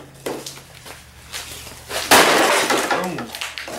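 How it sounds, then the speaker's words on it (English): Metal parts of a Toro Power Curve 1800 electric snow blower are smashed with a few sharp clanks and a loud crashing impact mid-clip, followed by rattling debris, close and harsh. "Smashing some metal."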